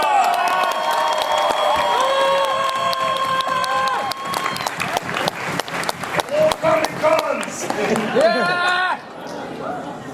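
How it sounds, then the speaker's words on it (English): Audience applause and cheering at a San Diego Comic Con panel for Teenage Mutant Ninja Turtles, a dense, sustained roar of clapping and whoops from a large crowd that fades somewhat near the end. "Let's give a big round of applause for Fred Tatasciore!"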